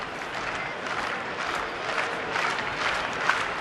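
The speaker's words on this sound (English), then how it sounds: "Nats fans clapping for the 3rd out here." Washington Nationals fans at a home baseball game against Atlanta clap for a third out, a soft, diffuse spread of applause from a distant crowd that holds steady throughout.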